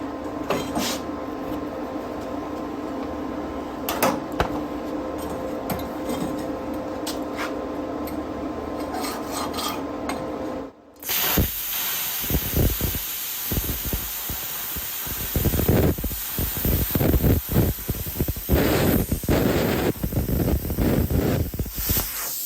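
A Bestarc 500DP V3 plasma cutter running at 50 amps and 40 psi starts with a steady hum, then after a brief cut-off switches to a harsh crackling hiss with sharp pops, loud and close.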